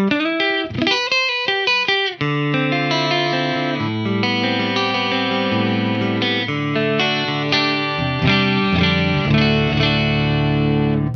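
An Artist Guitars AMS6 headless multiscale electric guitar on its neck pickup plays a clean, bright melodic phrase with a shimmering chorus and trailing delay echoes, loud and close.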